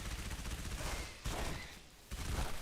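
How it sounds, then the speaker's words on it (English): Suppressed ODST SMG fire in the Halo video game: dense, continuous rattling bursts of automatic gunfire with brief gaps between them, steady and moderately loud. "Using the ODST SMG, the suppressed SMG,"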